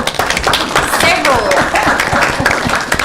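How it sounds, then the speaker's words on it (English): At a city board of mayor and aldermen meeting, a room of attendees gives a short burst of fairly sparse, distinct hand claps, close by, with people talking over them. "just give him a round of applause"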